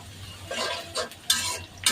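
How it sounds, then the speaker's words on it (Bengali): Garam masala and cumin being stirred in a pan, with soft scraping and light sizzling in short bursts over about two seconds, fairly quiet and with no talking. "গরম মশলা, জিরা দিয়া লাড়া লাড়া দেবেন।"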